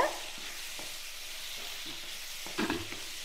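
Onions and tomatoes sauté in a kadai for groundnut chutney, giving a low steady sizzle with occasional spatula scrapes and a brief clatter near the end, close but fairly quiet with no speech.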